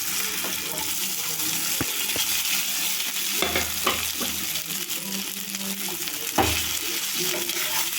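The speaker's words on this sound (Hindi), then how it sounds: "एबे मु चूड़ा को पकई देबी" Flattened rice (chuda) being stirred and cooked in a pan, a steady soft sizzle with occasional scraping stir strokes and light clinks, fairly quiet and close, no voices.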